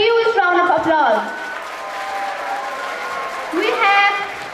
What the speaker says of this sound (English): Everyone, please welcome them with a huge round of applause.